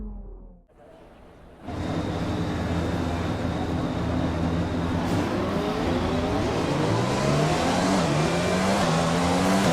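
A Formula One car in the F1 2020 game at the Bahrain Grand Prix revs hard off a practice start, a loud high-pitched engine whine climbing through repeated gear changes after a short quiet lead-in.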